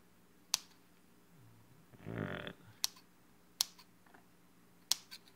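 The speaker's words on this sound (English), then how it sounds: "that stuff works pretty good with scissors" Scissors snip through soft Premo Sculpey polymer clay while sculpting a demon belt buckle eye, giving four sharp, close clicks spread across a quiet room, with a brief muffled rustle of handling in between.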